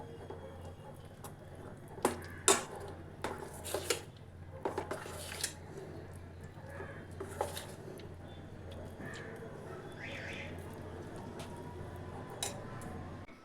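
Mango cake batter being mixed in a bowl, quiet close scraping and clinking of a utensil against the bowl in uneven strokes, some sharp ticks early on, no talk.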